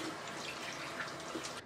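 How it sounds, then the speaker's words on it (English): Warm water runs steadily from a sink tap as a face is wetted at bedtime, a faint, even splashing hiss without any voices. "I'm gonna start by wetting my face first with just some warm water"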